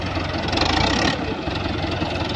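A Dbang tractor with a laser land-levelling blade idles on sandy farmland, giving a steady, loud, close engine rumble throughout with no speech.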